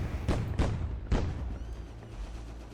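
An enemy in the Bee Island video game fires missiles, heard as three close, punchy thumps in quick succession, with a low rumble trailing off after them.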